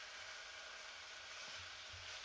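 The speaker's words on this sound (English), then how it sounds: "I'm going to turn this down because this has to simmer for about 3 minutes" Stir fry simmering in a pan on reduced heat, giving a faint, steady sizzle with soft low bubbling pops near the end.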